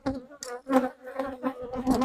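Honey bees buzzing at an open hive during an inspection, a close, loud, pulsing drone that swells and fades several times as bees pass near.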